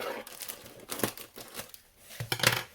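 Taped-down plant mail packaging holding a Hoya being cut open, with close crinkling and tearing noises and a few sharp snips in an uneven rhythm.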